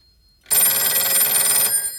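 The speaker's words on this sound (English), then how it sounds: "Oh, and now you see that it's starting to ring again." A Western Electric 302 telephone's bell rings loudly and close by in one sustained metallic ring of about a second, starting abruptly out of near silence and then cutting off.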